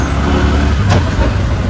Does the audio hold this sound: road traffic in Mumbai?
yes